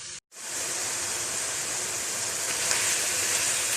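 Minced meat frying in a pan and releasing its water. After a short gap near the start, a steady, loud hiss runs alone with no talk.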